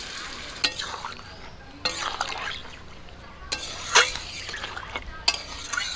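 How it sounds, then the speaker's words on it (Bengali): Water goes into a pan of frying chicken curry, with a steady hiss beneath sharp spoon scrapes and clinks against the pan as it is stirred, several distinct strokes close by. "রস করার জন্য জল দিয়ে দিচ্ছি"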